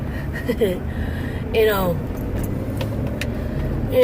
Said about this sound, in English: I'm stuck in traffic at this very moment